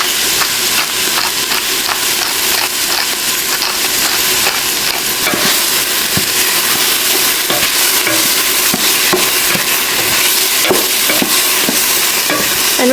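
Four cloves of garlic with salt and pepper sizzle loudly and steadily in a pan, a constant close frying hiss with occasional stirring scrapes and no talking.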